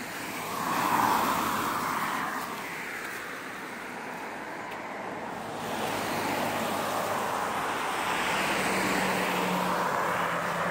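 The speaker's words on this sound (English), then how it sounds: "Oh yes, it's a wood lorry." A McCarroll Company Limited wood lorry passes on a road in Alexandria, Dunbartonshire, Scotland, a broad rushing roar that swells in from a distance, peaks, and carries on steadily with wind-like noise, no talk.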